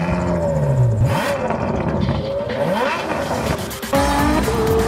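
A Ferrari F12 with a V12 engine drives hard, its loud engine note rising and falling through rapid revving and gear changes, with a faint tire squeal, no talking.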